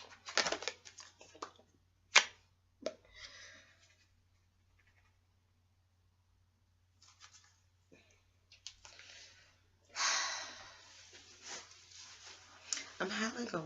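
Tarot cards being shuffled and handled in bursts of soft riffling, flicking and crinkling, close and quiet, with pauses between bursts.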